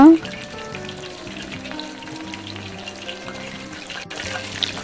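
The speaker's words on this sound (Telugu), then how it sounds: "లెగ్ పీసెస్ని బాగా డీప్ ఫ్రై చేసుకోవాలి" Chicken leg pieces deep frying in hot oil over a medium flame, a steady bubbling sizzle that stays close and even throughout, with no one talking.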